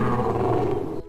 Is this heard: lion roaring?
yes